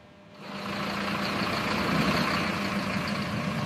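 A small truck loaded with makhana pulling out of a factory after a security check: the engine rises into a loud steady rumble and holds, close by, with no voices.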